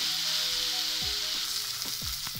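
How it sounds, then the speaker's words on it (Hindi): Onion frying in a pan for a chicken bread recipe, a steady close sizzle with broadband crackle throughout, a few faint tonal hums underneath and a sharp clink near the end. "हमने अपना प्याज को कलर चेंज होने तक पकाना है"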